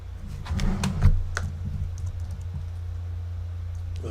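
Keys tapped on a computer keyboard at a desk, a quick cluster of clicks early on, then a few scattered taps before a steady hum.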